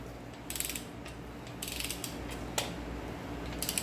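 A torque wrench clicks on the rear main bearing bolt of a 350ci engine during a bottom-end rebuild, with a few short ratcheting bursts and sharp clicks close by in a quiet shop.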